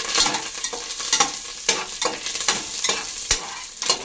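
Sliced onions drop into popped mustard seeds in hot oil for a Tamil village-style fish curry, bursting into a loud crackling sizzle. Repeated sharp spoon scrapes and clacks against the pan come in an uneven rhythm.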